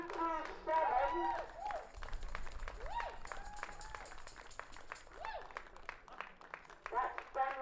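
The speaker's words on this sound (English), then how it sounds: "Let's have some clapping for these people." A crowd claps and applauds walkers coming in at the finish of the Parish Walk. The scattered clapping runs steadily throughout, under a voice talking over a loudspeaker.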